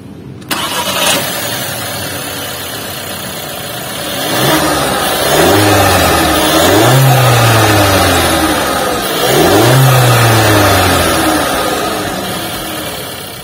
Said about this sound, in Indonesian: Kayak apa sih suara mesinnya? Yuk kita startup dulu.